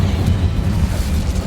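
Incendio fire spell in Hogwarts Legacy, a loud, sustained roaring whoosh of flame with heavy low rumble, continuous and close with no gaps.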